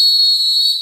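A whistle is blown in one loud, sharp, steady blast lasting under a second, close and piercing, with no talking.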